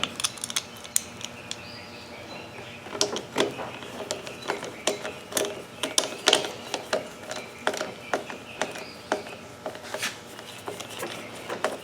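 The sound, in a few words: nut driver tightening bolts into plastic on a lawnmower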